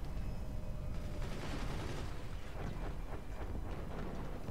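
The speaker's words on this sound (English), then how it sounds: "that's a grenade gun" A modded grenade gun firing in the game Forts, giving a steady dense barrage of bursting shots and booms that runs loud through the whole stretch with no pause.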